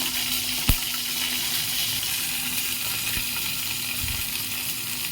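Green chillies sizzle in hot oil, a loud, steady hiss with one sharp pop early on, continuous throughout with no talking.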